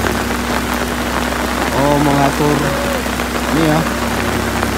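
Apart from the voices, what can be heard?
heavy rain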